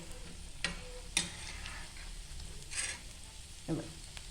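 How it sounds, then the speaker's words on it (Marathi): Drumstick-leaf cutlets fry in a pan on low heat, a quiet steady sizzle broken by a few sharp clicks and scrapes as pieces are turned over. "इथे आता आपण कटलेट फ्राय करून घेऊया इथे आपण कटलेट आता पलटी मारून घेतोय"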